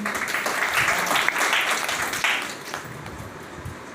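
Women at a Mission Shakti 5 empowerment gathering in India clap for themselves, a dense burst of crowd applause that starts loud and gradually thins and fades toward the end.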